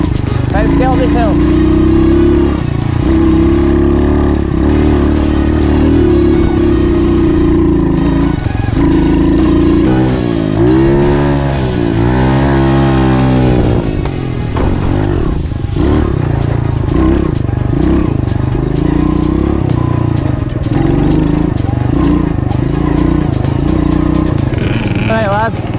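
A two-stroke 50cc pit bike engine climbs a hill, its loud buzzing drone running throughout with rising and falling revs, a steady mechanical whine and clatter close to the rider, and a brief dip near the middle.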